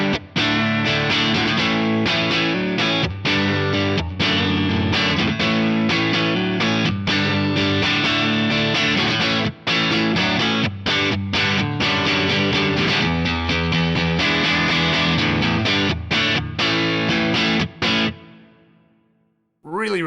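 Electric guitar played through a Fractal FM3 modelling an AC20 mid-gain amp with the drive and high cut raised, plus a London plate reverb, strumming loud, continuous chords that ring out and decay into a reverb tail at the end.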